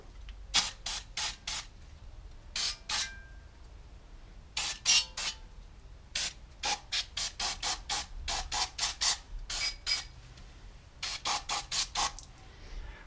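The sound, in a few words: spraying brake cleaner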